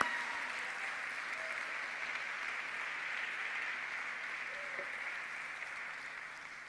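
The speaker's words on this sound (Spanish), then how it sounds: "Se da un aplauso grandote al Señor." A church congregation applauds together in sustained, steady clapping that fills the whole stretch, loud and even throughout and fading only slightly at the close.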